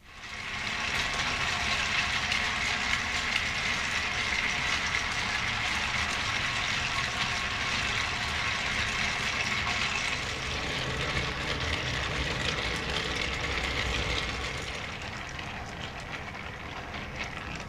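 Wind-up gramophone motor driving a model carnival kiddie ride toy, giving a steady whirring and rattling mechanical run with a continuous busy texture, easing slightly softer toward the end, with no talking.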